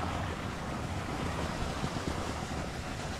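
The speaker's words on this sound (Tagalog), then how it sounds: "ayun yung overflow. Lumalabas na yung tubig dito." Water spills steadily over the overflow of a newly filled farm swimming pool, making a constant close rushing wash with no voices.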